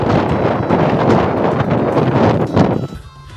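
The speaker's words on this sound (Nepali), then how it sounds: "पुरै क्या हावा चलिरहेको छ।" Strong outdoor wind buffets the microphone on a hillside stone stairway path, a loud continuous rumbling roar that drops off near the end.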